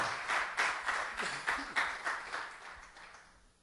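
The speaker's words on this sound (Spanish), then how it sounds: "Fuertes y aplauso" A church congregation claps in a brisk, uneven burst of applause that swells in waves and then fades out.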